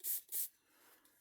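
Two quick hissing bursts from a hand sprayer misting an art journal page, close and crisp, then quiet handling noise.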